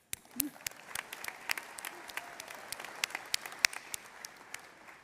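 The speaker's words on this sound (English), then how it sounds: "Now applaud." A crowd applauds steadily at a moderate distance during a university commencement ceremony, a dense patter of clapping with a few sharper individual claps standing out.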